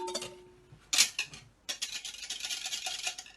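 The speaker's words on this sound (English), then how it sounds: "I'm going to just give that a whisk" A whisk beaten briskly through wet ingredients for vegan baking in a home kitchen, a rapid scraping patter that starts and stops, then runs steadily close by with no talk.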